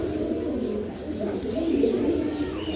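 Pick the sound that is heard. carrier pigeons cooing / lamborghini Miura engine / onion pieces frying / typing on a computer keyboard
carrier pigeons cooing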